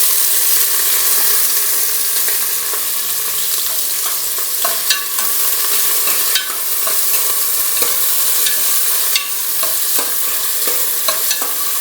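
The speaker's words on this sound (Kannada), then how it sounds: "ಇದು ಸ್ವಲ್ಪ ಗೋಲ್ಡನ್ ಬ್ರೌನ್ ಕಲರ್ ಬರೋವರೆಗೂ ಫ್ರೈ ಮಾಡ್ಕೋಬೇಕು" Onions and whole spices, including cinnamon, cardamom, cloves and bay leaf, fry in a pan with a constant sizzle, while a spoon stirs and scrapes with sharp, irregular clinks against the pan.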